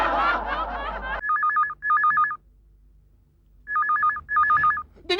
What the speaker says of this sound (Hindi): ऐसा लग रहा है कहीं दूर टेलीफोन की घंटी बज रही है